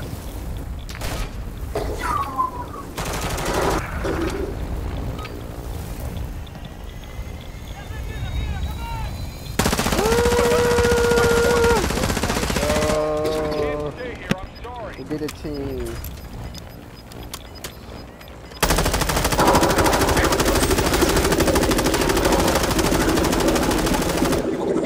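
Bursts of automatic gunfire in the video game Call of Duty: Modern Warfare II, dense, loud rattling volleys that come and go over about twenty-five seconds, with voices and shouts heard in between.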